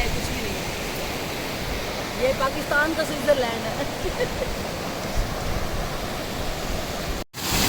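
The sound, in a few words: waterfall stream flowing into a river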